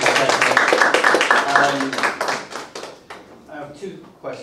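Audience applause at a student session on high-speed rail, loud rapid clapping from a crowd that thins into scattered, fading claps.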